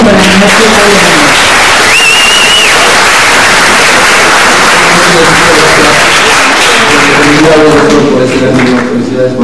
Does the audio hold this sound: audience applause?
yes